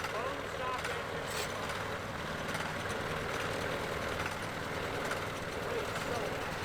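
A bone-stock go-kart engine runs steadily, its loud buzzing putter continuous and near throughout, with faint voices in the background.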